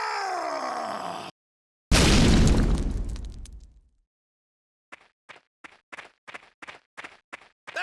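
A solid rock wall is smashed in the video game Ys Memoire: The Oath in Felghana: one loud, heavy crash whose rumble slowly dies away, then a quick series of short, sharp knocks.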